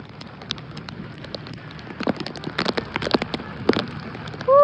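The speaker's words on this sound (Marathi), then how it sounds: "खूप जोरात पाऊस आहे." Heavy rain falls on farm fields during rice transplanting, with scattered drops spattering close by and growing denser and louder.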